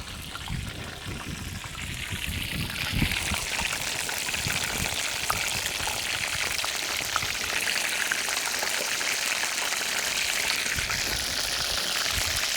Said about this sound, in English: the splashing of the oil is getting into the fire